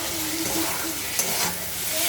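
Ground coriander and cumin fry in a pan with a steady close sizzle and some stirring scrapes, running alone without talk.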